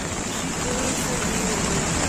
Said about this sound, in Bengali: বৃষ্টিটা হচ্ছে বলে জায়গাটা সেরকমভাবে কভার করতে পারছি না